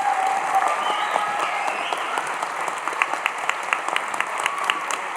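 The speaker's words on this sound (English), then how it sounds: "Can we get a round of applause for all of our recipients?" Steady, dense audience applause fills a scholarship ceremony hall, many hands clapping continuously at even loudness with no talking over it.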